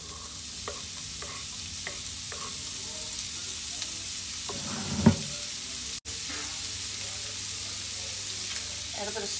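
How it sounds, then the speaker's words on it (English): Onions fry in a pan with a constant close sizzle, broken by the clinks and scrapes of stirring and one sharper knock midway. "fry the onions"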